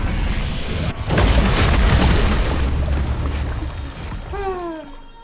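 Dragons strafing in RuneScape: Dragonwilds make a loud, booming roar of fire and rumble that swells and holds for several seconds, then fades as a few rising tonal calls come in near the end.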